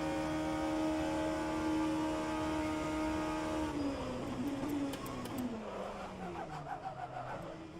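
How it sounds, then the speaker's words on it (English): Race car in the rFactor 2 sim racing game, engine drone with a high tonal tire whine that holds steady, then sweeps downward as the car slows and shifts, loud and continuous with no talk. "Did you hear the whining of the tires?"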